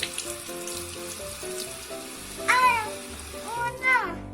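A kitchen tap runs in a home kitchen where a father and young child are cooking eggs, a steady close water hiss beneath an adult and someone talking and high playful vocal sounds.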